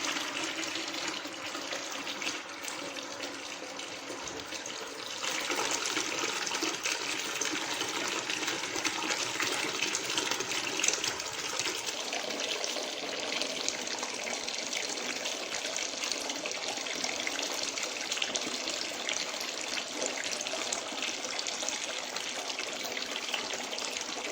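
Melted wax from an electric wax melter pours into buckets in a continuous, fairly quiet trickling stream that grows a little fuller after a few seconds and keeps running steadily.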